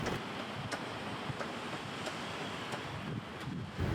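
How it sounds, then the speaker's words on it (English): Steady wind blowing over open water near a ferry dock, a constant gusty rush with microphone buffeting and faint lapping water, no voices. "The wind on the water."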